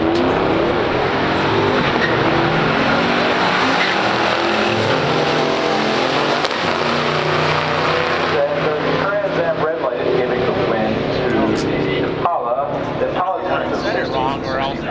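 A 1964 Impala SS and a 1979 Pontiac Trans Am drag race in a pure stock class, engines roaring loudly and steadily close by, with a revving pass and crowd or announcer voices underneath.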